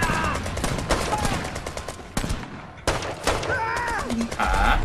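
Rapid bursts of gunfire from a sniper commando mission video game, dense machine-gun volleys with a few gaps, loud and close, with a voice talking over parts.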